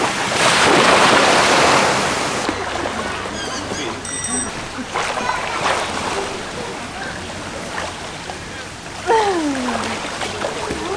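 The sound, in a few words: ocean waves at a beach on Koh Tao, Thailand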